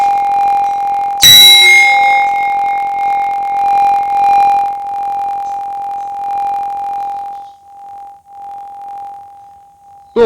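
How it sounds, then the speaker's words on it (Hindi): A large bell at a Shiva temple is struck once, ringing out loud and near with a sharp clang, then a long steady humming tone that slowly fades over several seconds, with no talking. "जरा घंटी बजाइए जरा"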